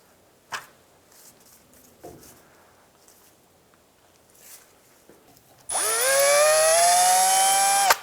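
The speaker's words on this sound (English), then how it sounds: "Drill the cotter pin out." A power drill runs steadily for about two and a half seconds, drilling out a cotter pin on the outer tie rod end of a 2000-2006 Toyota Tundra steering rack, loud and close after a few faint taps and clinks.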